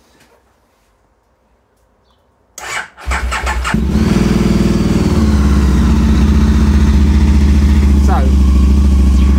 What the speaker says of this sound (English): So I'm going to start it up now.